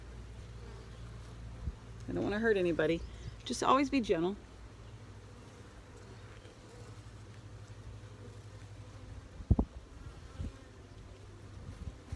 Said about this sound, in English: Oh wow, yeah, this is covered with bees.